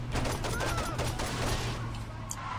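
A rapid string of gunshots fires while driving in Saints Row 2, crackling over a steady low engine hum with a voice briefly heard.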